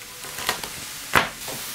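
Quiet frying sizzle of onion in rendered pork fat in a pan, with a few soft clicks and one sharper stir or scrape partway through.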